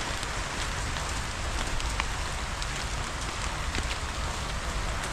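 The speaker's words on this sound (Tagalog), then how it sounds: "Ay, ulan." Rain falls steadily in a dense, even hiss with faint scattered drop ticks, constant and close throughout with no speech.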